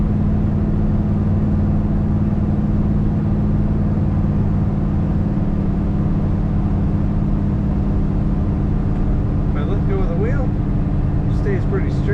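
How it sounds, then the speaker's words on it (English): A 1965 Chevrolet El Camino on the move, its engine and exhaust a steady, full rumble with road noise throughout, and a faint voice surfacing near the end. "Smooth running El Camino with great exhaust sound."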